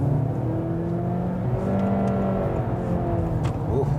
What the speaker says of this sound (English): Just going to hit the gas a little bit out of here. Test the acceleration.